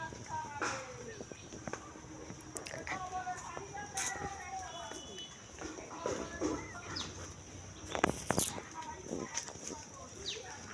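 Chickens cluck in a home yard among planted winter vegetables, soft broken clucks scattered over steady background noise, with a few sharper knocks and rustles.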